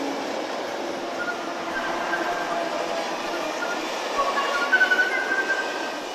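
Train hauled by a CC 72000 diesel locomotive rolling past at a distance, a soft steady rumbling roar with faint wheel squeals and rhythmic rail clicks near the end.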